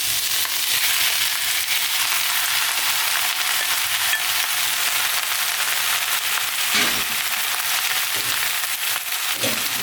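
Onions stir-fry in oil for spicy pork, a loud, dense sizzle with constant crackle and occasional stirring clatter, close up and without speech.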